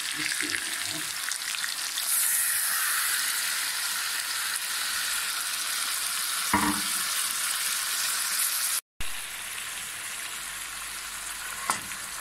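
Three chopped tomatoes and three green chillies sizzle loudly and steadily in hot oil for chicken kabsa, with a couple of stirring knocks and a brief dropout near the end.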